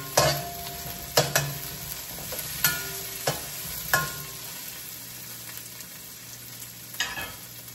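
Pancit canton guisado being stir-fried in a pan makes a continuous sizzle, broken by sharp scraping and tossing strokes of a spatula at irregular intervals, heard up close.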